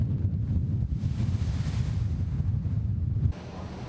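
Rough sea over three metres and strong wind buffet a 180-ton fishery patrol ship in the East Sea under a high-wave warning, a steady loud roar of surf and wind noise throughout with no talk.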